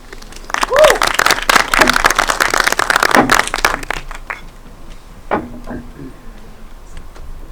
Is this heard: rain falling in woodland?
no